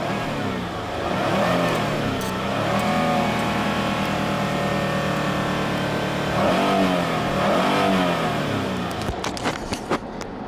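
The 3.0 engine of a 2010 Ford Fusion with 129,000 miles idles and revs nearby, the motor rising and falling in pitch a few times with a steady rumble throughout.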